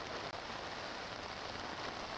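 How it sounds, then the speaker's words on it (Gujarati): Heavy rain pouring down in Surat city, a steady, continuous roar of rain on surfaces with only a momentary dip, and no voices. "હાલમાં સુરતમાં ધોધમાર વરસાદ શરૂ થયો છે"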